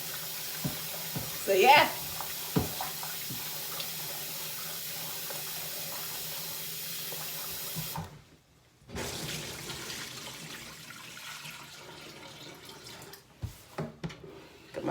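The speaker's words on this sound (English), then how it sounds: "This is the rice being washed." Tap water runs steadily into a sink while rice is washed, with clatters and splashes of handling, a brief pause in the flow partway, and a person speaking briefly.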